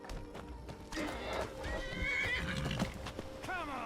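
Shadowmere, a horse in the video game Skyrim, gives a loud whinnying neigh with rising and falling cries, over clip-clopping hooves and low background game sounds.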